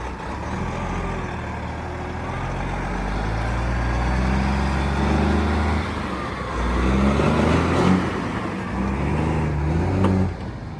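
A 1995 Kenworth T800 tri-axle dump truck drives off, its heavy diesel engine rumbling and pulsing through gear changes, loud and close with a brief hiss near the end.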